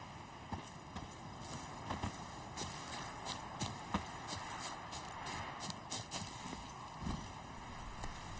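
Roach, a horse in a video game, gallops with rhythmic clip-clopping hoofbeats that stay steady at a moderate distance over an ambient game backdrop, with no talk over them.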